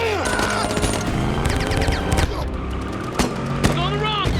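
Soldiers' weapons open fire in a loud movie battle, dense bursts of gunfire with sharp booming impacts and mechanical clatter over roughly four seconds, mixed with shouting voices and a continuous roar of action.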